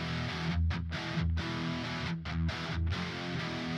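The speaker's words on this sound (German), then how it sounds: "Das war eine relativ harte Verzerrung, aber die Telecaster hat verhältnismäßig wenig Output." Heavily distorted Telecaster electric guitar played through a Rectifier amp, a thick, sustained metal tone in chugging chords with brief rhythmic stops, loud and alone.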